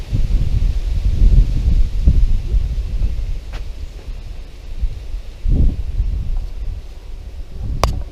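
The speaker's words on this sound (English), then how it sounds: "Sorry if it's a bit windy today, it is quite windy here." Strong wind buffeting a microphone in gusty low rumbles, rising and falling throughout, with no talking.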